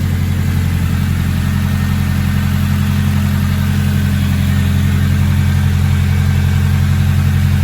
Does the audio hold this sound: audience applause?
no